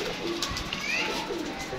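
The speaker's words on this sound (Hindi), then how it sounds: "ये देखें माशाल्लाह नीचे उतर रहे हैं कबूतर" Teddy pigeons coo softly as they land, amid a busy outdoor hiss, with faint calls and rustling spread through the short stretch.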